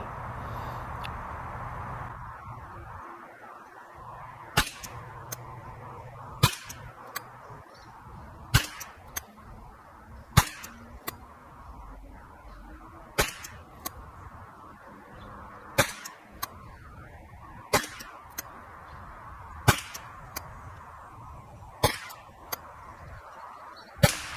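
A custom Ruger 10/22 rifle with a 24-inch Green Mountain barrel fires Eley Contact .22 ammunition, about a dozen sharp, evenly paced cracks spaced a couple of seconds apart over a quiet outdoor background.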